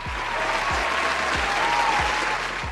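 A studio audience applauds at a comedy show, a steady dense wash of clapping lasting throughout with a low rhythmic musical thump beneath it.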